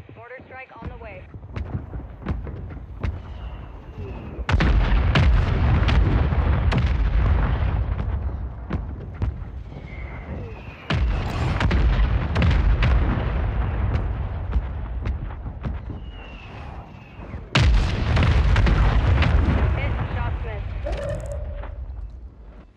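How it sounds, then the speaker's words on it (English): Mortar strike explosions in the Call of Duty video game, three heavy booming blasts that each land loud and close, then rumble and fade, with voices and game sounds between them. "Hostile mortar strike in the area."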